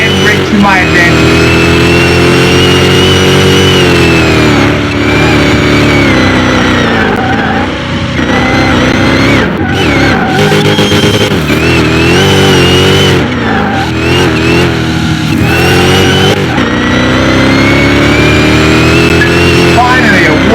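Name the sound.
Hellhawk SUV engine accelerating in a drag race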